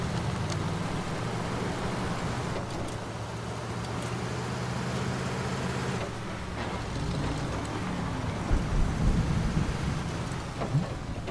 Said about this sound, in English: Thunder now.